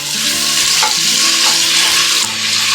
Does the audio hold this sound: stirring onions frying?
yes